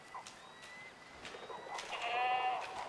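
Goats flee in the hunting video game Way of the Hunter, letting out several faint, wavering bleats spread across a few seconds, the last call longer and louder.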